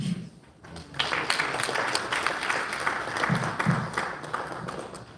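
An audience at a live Uganda National Examinations Board conference session breaks into applause, a dense, even wash of clapping that holds steady for several seconds without voices.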